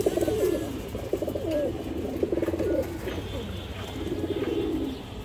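A pair of pigeons, a female behind a male, coo in repeated low rolling phrases, close and steady, with a brief pause midway before the cooing resumes.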